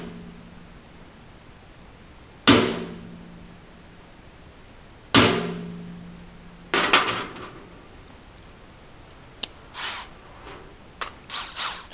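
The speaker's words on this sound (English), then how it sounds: "we'll take our pin punch and just tap a couple holes of pins" A few sharp metallic taps from a pin punch marking holes, struck one at a time with pauses between, each ringing briefly before fading, followed by softer small knocks.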